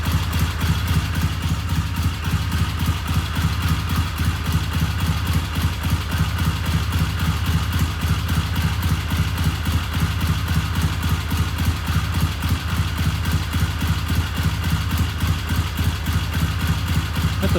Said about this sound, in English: That's about a 900 RPM idle